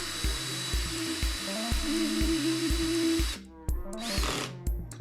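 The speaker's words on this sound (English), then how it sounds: "because I don't feel like screwing forever, we're going to use our handy dandy power driver" A cordless power driver spins screws in to lock a panel in place, giving a steady whining motor hum with rhythmic ratcheting clicks for a few seconds before stopping, followed by quieter handling noises.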